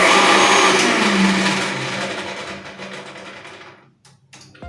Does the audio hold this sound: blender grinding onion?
yes